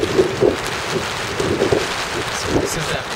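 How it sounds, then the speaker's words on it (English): Heavy rain and strong gusting wind from Tropical Storm Irene sweep across the Boston area, a continuous loud wash of rain with surging, uneven gusts close to the microphone. "this is that band of heavy rain, very strong winds that's been battling the Cape"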